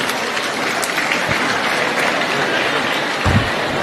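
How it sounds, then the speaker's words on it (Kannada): Audience applause at a public event honouring a former prime minister, a dense and steady wash of many hands clapping close and loud throughout, with a few heavier thumps near the end. "ಮತ್ತೊಮ್ಮೆ ಜೋರಾದ ಚಪ್ಪಾಳೆಯೊಂದಿಗೆ ಸನ್ಮಾನ್ಯ ಶ್ರೀ ಎಚ್ ಡಿ ದೇವೇಗೌಡರಿಗೆ ಧನ್ಯವಾದಗಳನ್ನು ಅರ್ಪಿಸೋಣ"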